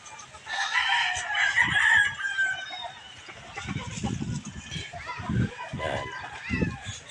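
Chickens being fed on a farm, with clucking and a rooster crowing throughout, and a person talking over the birds.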